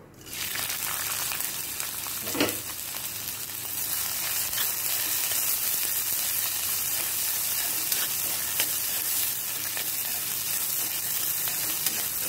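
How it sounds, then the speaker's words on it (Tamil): Onions sautéing in a pan for a South Indian paneer capsicum gravy, a loud continuous sizzle with occasional stirring clicks, steady from start to finish and no voices. "இப்போ வெங்காயம் நல்லா வதங்கிச்சு"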